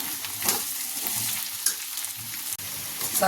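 A capsicum and potato curry in a pan is stirred with coriander powder, giving a close, soft sizzle under a few spoon scrapes and a sharp tap near the end, with no talking.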